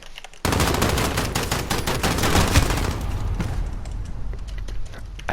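Sustained rapid gunfire in a video game shooter played with keyboard and mouse, a dense, loud automatic burst running almost without pause for several seconds after a sudden start, no voices.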